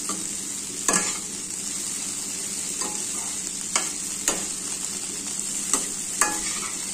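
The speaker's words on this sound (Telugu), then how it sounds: "ఎల్లిపాయలు వేయించుకున్నాక మళ్ళీ కలిపేసుకోవాలండి." Garlic frying in oil in a pan alongside okra curry, a steady close sizzle broken by several sharp scrapes and clinks of a spatula stirring, with no talk.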